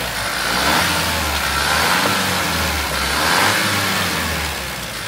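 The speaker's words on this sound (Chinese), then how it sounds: "这是换过机油，听一下发动机的声音。" A Chery Tiggo 8 Pro engine runs steadily after an oil change, a continuous close mechanical drone with slight swells in revs and no talking.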